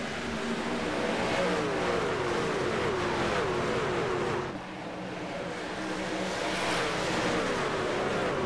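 Pack of race trucks at the Miami 125 in the HTL Hammer Down Truck Series roaring as they accelerate on a green flag restart, a loud continuous engine drone with rising pitch sweeps, dipping briefly midway before swelling again.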